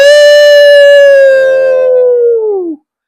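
A single dog howls close and loud in one long sustained, slightly falling note that fades out after nearly three seconds, in a neighborhood on the Fourth of July amid fireworks.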